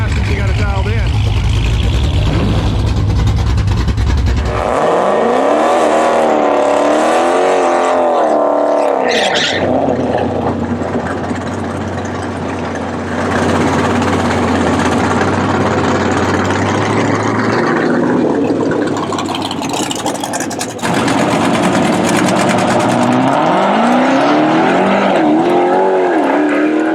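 A nitrous-fed Dodge Challenger Redeye running a quarter-mile drag pass, a loud engine roar rising through gear changes as it pulls away, with a crowd or announcer talking over it in places.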